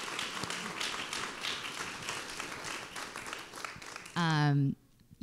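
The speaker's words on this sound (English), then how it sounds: "can I just get a quick round of applause for these amazing panelists?" Audience applause for panelists at a recycling and composting event, a faint, steady crowd patter of clapping lasting several seconds, followed by a brief loud tonal burst near the end.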